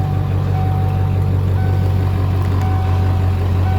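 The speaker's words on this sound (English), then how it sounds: "truck starts up, no problems" A 1996 Ford F250 4x4 diesel pickup idles right after start-up, a steady, loud, low rumble with an even throb close by and no voices.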